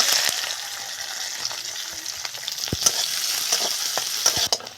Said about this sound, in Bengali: পেঁয়াজগুলো দিয়ে দেবো